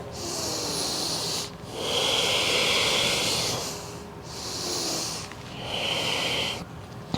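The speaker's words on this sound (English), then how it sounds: "One point of focus, come back to that Ujjayi breath." Slow Ujjayi breathing during a yoga flow, long hissing breaths drawn in and out through a constricted throat, three extended strokes with short gaps, close and breathy, with no talking.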